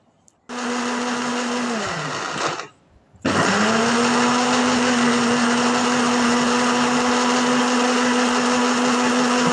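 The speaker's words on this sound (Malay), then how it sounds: "Ni hampa dah boleh blender. Hampa punya halia dengan bawang besar." An electric blender whirs loudly while chopping onions and ginger, stopping briefly after about two seconds with a falling whine, then restarting and running steadily to the end.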